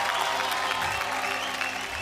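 Live audience at an awards ceremony breaks into dense, steady clapping, loud and close throughout the short burst.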